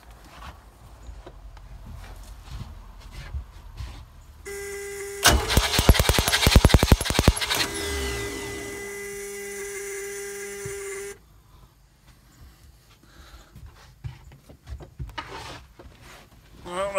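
A Mercruiser 120 marine engine cranks over with a fast, rattling starter-motor whir that runs for several seconds and then stops, set against quieter handling noise before and after.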